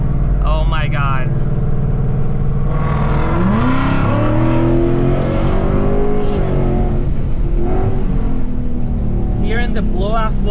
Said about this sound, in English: Hearing the blow-off valve too sounds crazy.